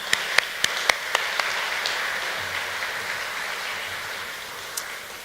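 Scattered claps from an audience at an evening museum program, a few sharp separate claps at first, then a soft spread-out patter of applause in a large room.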